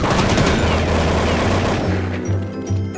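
Rapid bursts of automatic gunfire in Counter-Strike rattle loudly and continuously, with a dense, close, game-like sound.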